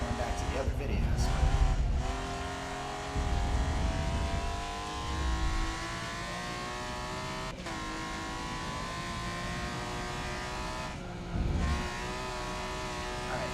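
A race car in Forza Motorsport runs a lap down the straightaway, its engine a steady, loud, high-pitched tone that climbs and then briefly drops at several gear shifts.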